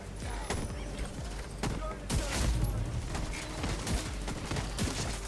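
Rapid SVD rifle fire from an exotic build in The Division 2, loud sharp reports in quick succession over game sound and background clatter.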